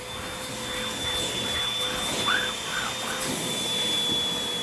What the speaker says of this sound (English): Bet you're vacuuming this place with a turbo head.